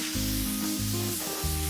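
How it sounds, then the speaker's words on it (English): Static remover spray hissing steadily onto PVC trim, a continuous close airy spray running the whole moment, with a faint tonal hum underneath. "static remover spray does a great job of keeping that dust from sticking to you or your tools"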